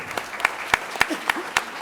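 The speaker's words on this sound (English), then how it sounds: "A big round of applause is also due to my entire organizing team" Scattered, sparse hand claps at an international conference at IIC Delhi, a handful of separate claps spaced unevenly over a moment, moderately close with no voices over them.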